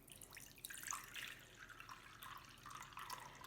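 Water trickling slowly into a container holding ice cubes, a soft continuous pour with faint drips, quiet and close.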